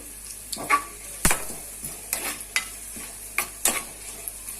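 Curry leaves and a pinch of turmeric sizzle in hot oil for a cluster bean (goru chikkudu) tempering, with several sharp spatula scrapes and stirring clatters against the pan, close and alone.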